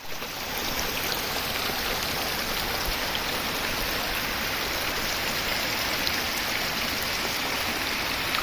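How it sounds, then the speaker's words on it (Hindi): Pindari river, a Himalayan mountain stream fed by melting snow at high altitude, rushing in a steady, loud, broadband roar that holds unbroken from start to finish with no voices. "तो ये आ गई है पिंडारी नदी"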